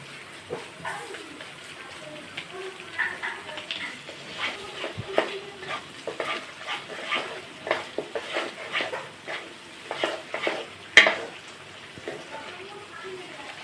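Shahi paneer masala with Kashmiri chilli powder sautés in a pan, a soft sizzle under repeated scraping and stirring strokes at an uneven rhythm, with one sharp clink near the end.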